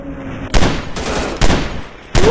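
Bursts of gunfire from the mobile shooter game Commando Strike, three loud broadband volleys separated by brief lulls of lingering game ambience, with no talking.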